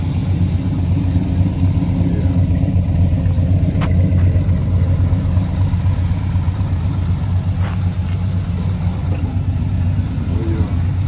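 A Monte Carlo SS cruising on backroads, its engine a loud, steady low rumble throughout with only slight variation and a couple of faint clicks, with no one talking.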